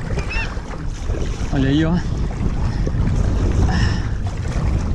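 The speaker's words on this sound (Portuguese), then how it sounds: "esse ano o vento tá pior nessa época" Strong wind buffeting the microphone while fishing outdoors by the water, loud continuous gusty roar, with a person speaking briefly over it.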